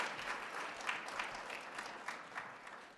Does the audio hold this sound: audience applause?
yes